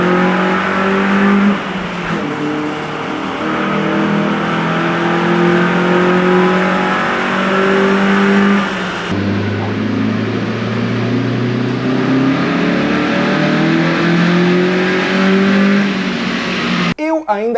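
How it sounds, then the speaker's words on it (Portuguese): A car engine running on nitrous oxide revs hard on a dynamometer, a loud sustained roar with rising and falling pitch through several pulls, close and continuous. "Escuta só o som desse motor acelerando com óxido nitroso no dinamômetro."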